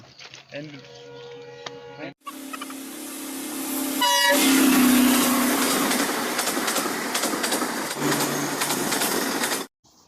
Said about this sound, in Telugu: సముద్రం పక్కనే రైల్వే ట్రాక్, ట్రైన్ వెళ్తుంది.